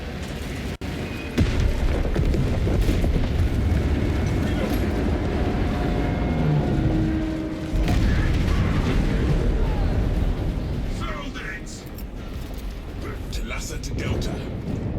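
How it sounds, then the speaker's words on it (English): Explosive charges detonate in Space Marine 2, giving loud, rumbling booms that roll across a dense, continuous battle din with voices mixed in. "Detonate the charges now."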